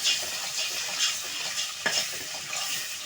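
Close sizzling of ginger garlic paste sautéing in a pan, with scraping stirs and a sharp clink of a utensil partway through, no talking.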